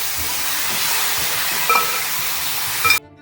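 Marinated chicken dropped into a hot pan for a Kerala-style chicken fry made without onion or tomato, giving a loud, steady hiss and sizzle with a couple of brief stirring clatters before it cuts off.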